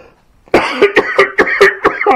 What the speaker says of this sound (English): it got me coughing there